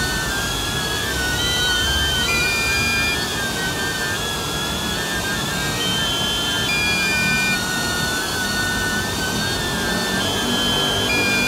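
A DJI Neo drone with an enlarged battery hovers nearby, giving a steady loud whining buzz with shifting high rotor tones that holds without a break.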